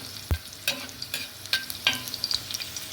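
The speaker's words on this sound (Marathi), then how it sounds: "कांदा आणि खोबरं भाजून घेतलं एकदम कमी मंद आज मंद गॅसवर भाजून आहे" Onion and coconut roasting in a pan over a low gas flame for a chicken kala masala, with a gentle sizzle under repeated scraping spatula strokes, close and without voices.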